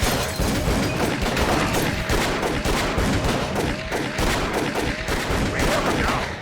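Rapid gunfire from a firefight in the horror game Call of Cthulhu: Dark Corners of the Earth pounds steadily with dense, overlapping shots, loud and close, with little talk.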